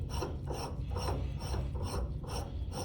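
A knurled top being screwed down onto its threads, giving close, steady rasping strokes that repeat about every half second in an even rhythm, with no talking.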